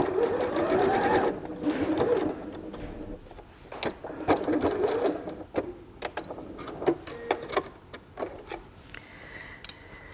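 A sewing machine stitches a cat purse in a fast, loud whirring run, pauses, then sews again in short bursts with clicks and taps between them.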